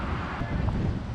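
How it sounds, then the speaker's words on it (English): Strong wind buffeting a microphone outdoors by the ocean, a steady close low roar with no break. "It's so windy out here."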